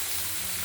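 Steady hiss and sizzle from a hot pan in a Bengali kitchen as chopped rohu fish goes in with ash gourd, a continuous close frying noise with no voices.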